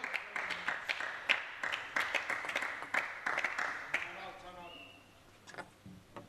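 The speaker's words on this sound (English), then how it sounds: "That's his applause you can hear ringing out." A team captain applauds at a table tennis team match, a run of sharp claps ringing out over crowd noise and commentary, then fading near the end.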